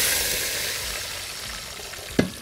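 Fried onion sizzling steadily in a pot for sayadiya fish rice, a loud continuous hiss with a sudden splash and surge as water is poured in near the end.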